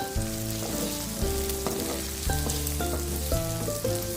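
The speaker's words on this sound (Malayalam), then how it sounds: "ഉള്ളിയൊക്കെ നന്നായി ഫ്രൈ ആയിട്ട് വന്നിട്ടുണ്ട്." Onions fry in a pan for mutton chukka. A steady, loud sizzle runs close throughout, and tonal clatter and scraping stand out above it, with no talking.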